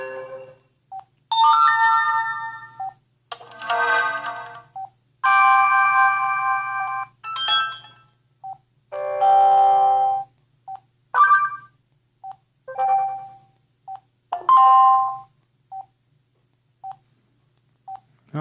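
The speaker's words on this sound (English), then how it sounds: "Notification sound you can pick." A run of short electronic notification tones previewed one after another on a Verizon Orbic Journey V flip phone, each melodic chime or ding separated by brief silence and small clicks, loud and close with no talking.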